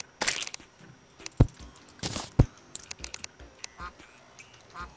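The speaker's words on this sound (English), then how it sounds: "I hear a duck." Several short, sharp duck quacks from the video game Terraria pop out at irregular intervals over quieter background game sounds, with a person speaking briefly in between.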